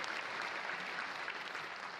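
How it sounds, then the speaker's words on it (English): A conference audience at a CCP games company presentation gives a round of applause for the CSM, a faint, distant, steady wash of clapping throughout. "Yeah, give them a round of applause, yeah."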